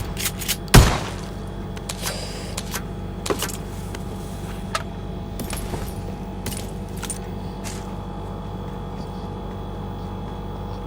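Gunfire from shotgun and pistol in the PUBG Mobile battle game, a sharp loud shot near the start followed by several fainter, scattered reports over a steady game background.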